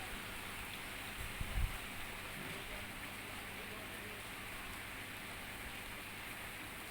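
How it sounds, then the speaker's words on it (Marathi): Steady rain falls in a garden at Hampi, a soft, even hiss that fills the whole stretch, with a brief low thump early on and no clear voices. "पाऊस आलेला आहे"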